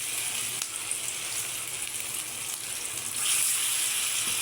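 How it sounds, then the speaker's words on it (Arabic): Kebab frying in hot oil in a home kitchen for a Ramadan iftar meal, a steady bright sizzle with faint crackles that swells slightly louder near the end. "هنا بنات نقلي الكباب نقلي"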